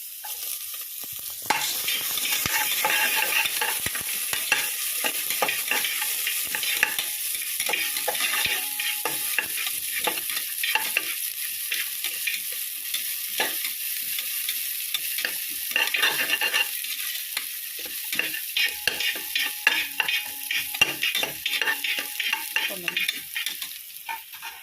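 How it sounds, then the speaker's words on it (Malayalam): Sliced onions fry in oil for chicken biryani and are stirred constantly, giving a loud, continuous sizzle full of close, rapid scraping and clinking of the spoon against the pot. No one speaks. "കുറച്ച് സബോള ഇട്ട് കൊടുക്കും."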